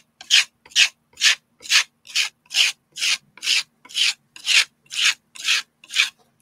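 A hand rubs back and forth across a textured loft spackle wall finish, thirteen evenly spaced, close, raspy scraping strokes in a steady rhythm with short pauses between and no talking.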